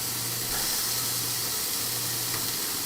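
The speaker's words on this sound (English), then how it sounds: "Listen to that sizzle." Beef dropped into a hot pan sizzles with a steady, broad hiss that carries on without a break, close and fairly loud, with a low hum underneath and no talking.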